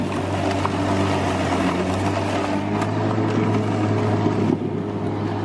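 A Sun Joe MJ401C-PRO 28-volt cordless electric push lawn mower runs close by with a steady, loud motor drone and strong low hum, holding constant without pauses.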